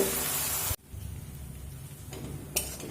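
Onion with ginger and garlic paste fries in a pan, a loud, dense sizzle for the first moment before it drops abruptly to a quieter, steady frying hiss with a couple of brief clatters near the end.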